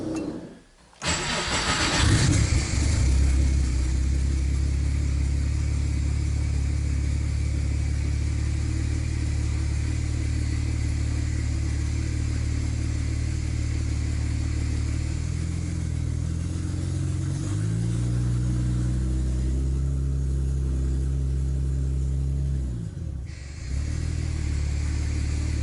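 A Subaru EG33 flat-six in a swapped car, newly wired to a VR sensor, cranks and starts, then runs with a loud, rough, uneven idle and a few revs before briefly dipping near the end.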